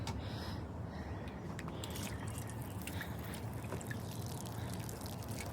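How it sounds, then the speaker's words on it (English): Water pours from a can onto potted plants in a steady, fairly quiet trickling stream with light splashes, heard close and continuous, with no speech. "let's water some plants."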